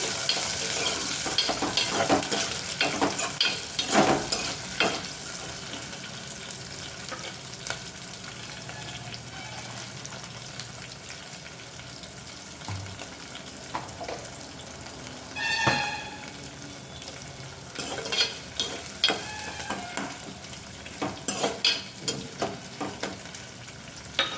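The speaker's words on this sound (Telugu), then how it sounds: "కట్ చేసుకున్న ఉల్లిపాయలు పచ్చిమిరకాయలు వేసుకొని ఫ్రై చేసుకోవాలి" Chopped onions and green chilies fry in a pan with a soft steady sizzle, broken by occasional stirring scrapes and clinks of the utensil.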